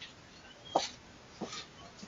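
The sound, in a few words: dog whimpering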